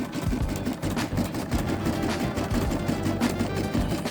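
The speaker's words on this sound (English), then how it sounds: "Finish some embroidery." An embroidery machine stitches a cozy mug accessory in rapid, even mechanical bursts, a close, busy needle rhythm with a low motor hum underneath, steady for the whole stretch and free of talk.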